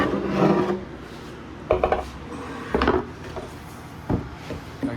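A wooden drawer board is flipped over at a miter saw during kitchen water-damage repair work, giving a few sharp knocks and scrapes of wood against the saw table, spaced out and close by, with no talking.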